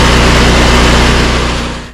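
A Kohler 12RESV standby generator engine runs with a loud, steady low drone right up close, then begins winding down near the end of a short burst.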